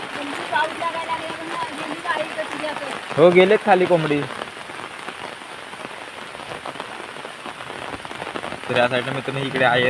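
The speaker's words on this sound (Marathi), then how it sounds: "दोन चार दिवस ऊन होता आला पाऊस" Steady rain falls on surfaces in the Konkan countryside, a continuous patter throughout, while voices talk intermittently over it.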